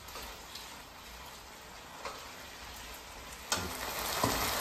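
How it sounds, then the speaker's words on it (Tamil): Dried fish (karuvadu) simmers in tamarind water in a pot, giving a faint, steady bubbling sizzle with a few soft clicks and taps, no talking. "இப்போ புளி தண்ணியிலேயே கருவாடு கொதிக்குது."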